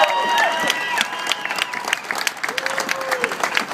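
A crowd at an AFL-CIO Day of Action rally in 2013 claps and cheers loudly for a congressman, with dense, sustained applause and some shouts throughout.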